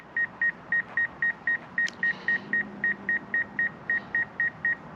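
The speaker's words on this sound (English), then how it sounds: "But you can hear the beeping." Obstacle-warning beeps from a DJI Mavic Air 2 drone flying close to a building: a steady run of short, evenly spaced electronic tones, about four per second, loud and clear over faint background hiss.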